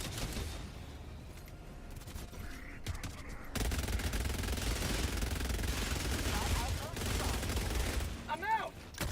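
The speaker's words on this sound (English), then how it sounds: "Someone's shooting at me." Rapid gunfire from the Dive Knight video game, a dense continuous rattle of shots filling the scene and starting abruptly partway in, with a brief bird-like chirping near the end and faint voices underneath.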